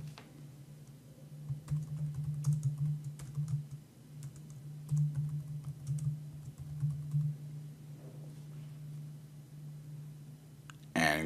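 Quiet, steady tapping on a computer keyboard while entering a description in project management software, a continuous close patter of keystrokes over a low hum.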